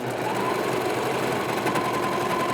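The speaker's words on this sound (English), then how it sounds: "Then you go to the serger." A serger sewing machine serging knit fabric runs continuously at a steady fast hum with a mechanical rattle, close and uninterrupted.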